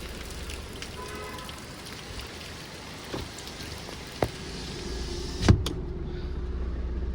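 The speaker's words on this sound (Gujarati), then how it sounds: "અત્યારે ભાઈ જુનાગઢમાં જોરદાર વરસાદ આવે હું તમને બતાવું" Heavy rain falling in Junagadh, a constant close patter on surfaces with a few sharper knocks and a brief rustling burst before the downpour continues.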